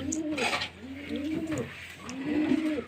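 Pet pigeons coo in three repeated, rolling phrases close by, steady and moderately loud with faint background noise and no talking.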